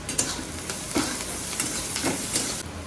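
Onion and green chillies with salt sautéing in oil, a constant close sizzle broken by periodic scraping stirs of a spoon against the pan.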